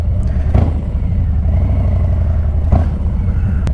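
A Lowrider S engine revs with the clutch pulled in, a loud, close, low rumbling drone that swells briefly twice before settling back to a steady throb.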